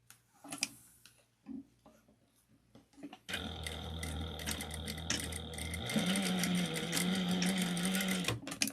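A sewing machine top stitches a fabric wristlet at an eighth-inch seam, its needle running in a rapid, even mechanical chatter that starts abruptly after a few soft handling taps and continues close and steady.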